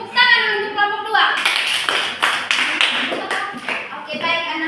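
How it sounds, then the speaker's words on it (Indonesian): Children in a classroom clap for a student group, a burst of several quick, loud claps between stretches of a teacher's voice. "tepuk tangan untuk kelompok 2"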